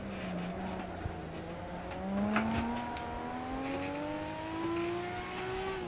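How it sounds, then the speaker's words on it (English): A high-boost car engine in the racing video game Assetto Corsa on a touge mountain road, revving steadily upward through the gears with a rising whine, loud and continuous with light road noise. "that's a higher boost engine"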